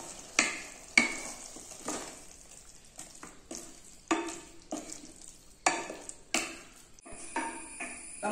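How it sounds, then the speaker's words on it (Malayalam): Boiled eggs are stirred into egg kurma gravy with the flame off, a spoon scraping and clinking against the pan in a series of separate strokes over a soft sizzle, with quiet gaps between them. "മുട്ട ചേർത്തിട്ട് എല്ലാം കൂടി നന്നായിട്ട് ഒന്ന് മിക്സ് ചെയ്ത് കൊടുത്തിട്ടുണ്ട്"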